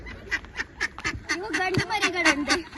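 A duck quacks repeatedly while being picked up, a run of loud, close, nasal quacks in uneven rhythm with people talking over and around them.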